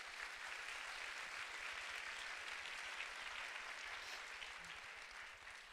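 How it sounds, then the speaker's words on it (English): A room full of people at a Women on Boards gala claps steadily for the event's bronze sponsors, a dense, even wash of hands that fades a little at the end. "So let's have a round of applause for the bronze sponsors."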